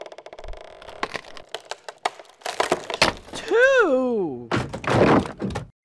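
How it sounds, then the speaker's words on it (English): Radio drama sound effect of a door being pried at and wrenched off its hinges, heavy thunks and cracking wood close by, with voices talking and a long creaking groan between the impacts. "the door came off the hinges"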